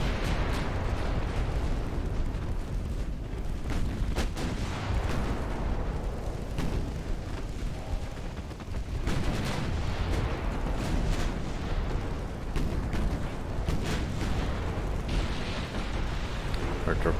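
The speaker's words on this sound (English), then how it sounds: "Our torpedoes just detonated." Ultimate Admiral Dreadnoughts naval battle with torpedoes detonating: a constant heavy roar of booms, blasts and gunfire, loud and dense, with a voice talking underneath.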